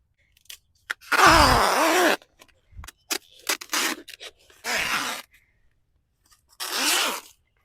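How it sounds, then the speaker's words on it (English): Weed membrane being cut with scissors on an allotment in January for carrot boxes, heard as several separate crunchy, tearing snips and rips, close and fairly loud, with short quiet gaps between them. "Cut the membrane."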